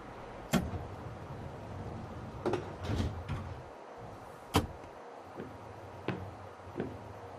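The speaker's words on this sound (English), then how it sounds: "Doors closing." CTA Brown Line train doors on a Chicago elevated train at the Fullerton stop, with a few sharp thumps and clunks spread over several seconds against a low rumble of the car.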